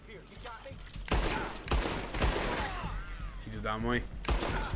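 Several sharp gunshots in the video game Red Dead Redemption 2 Online crack out in quick bursts, loud and close, with a voice exclaiming between them.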